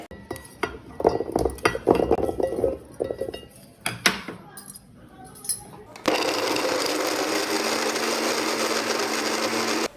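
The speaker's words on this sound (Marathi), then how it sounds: "सर्वात आधी आपण खोबरं मिक्सरला बारीक करून घेऊयात" Clattering and clinking of a jar being handled, then a mixer grinder starts grinding coconut and runs loudly with a steady whirring roar until the end.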